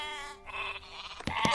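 A cartoon sheep bleats in an animated film, one clear wavering cry followed by a short burst of overlapping bleats from the flock, loud and close.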